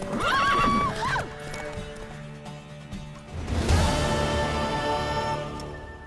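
Horse from The Witcher 3 race, a mare neighing loudly at the start, then hooves clip-clopping in a gallop under game music, with a second whinny and crashing thud midway.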